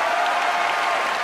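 A crowd applauds at the Toulouse Game Show, a dense, steady sheet of clapping heard without talk over a brief moment.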